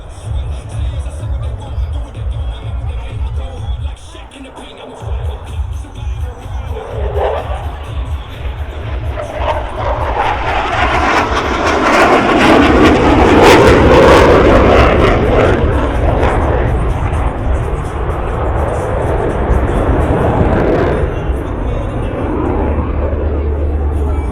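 Blue Angels jets crossing over show center at an air show in Augusta, Georgia: a jet roar that swells to a loud, sustained peak and then eases off, with crowd noise and a voice talking underneath.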